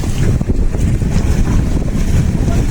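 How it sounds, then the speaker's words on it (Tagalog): A boat engine rattles steadily at close range while heavy wind buffets the microphone, at sea beside a capsized yacht, loud and continuous with no voices. "Oh, nauga-uga pa ang makina."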